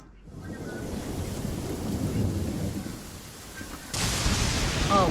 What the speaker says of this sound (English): It's raining here, like literally just here.